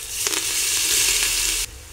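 Mustard seeds, curry leaves and a ginger-garlic-cumin paste sizzle loudly in hot oil for sprouted moth bean usal, a steady close crackle with a brief stir, then dropping quieter at the end.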